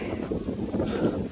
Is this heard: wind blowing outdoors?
yes